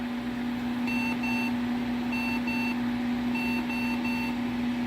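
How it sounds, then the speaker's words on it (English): An IBM IntelliStation M Pro workstation sounds its POST beep code, three clusters of short high beeps in a 2-2-3 pattern riding over a constant fan hum and hiss, with no speech. ""223" is the beep code."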